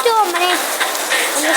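Heavy rain pours over Dhaka as a steady, close, broadband hiss for the whole moment, with faint voice-like tones drifting over it.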